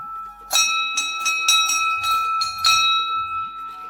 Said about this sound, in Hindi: घंटी बजा रहे हैं, मैया रानी की घंटी बजा रहे हैं।